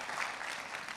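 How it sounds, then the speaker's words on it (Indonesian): Audience applause at a Christian church sermon on family and marriage, a steady broadband patter of many hands clapping through the whole short stretch, fairly even and moderately loud with no pauses. "Tepuk tangan buat dia."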